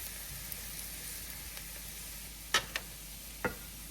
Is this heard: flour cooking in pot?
yes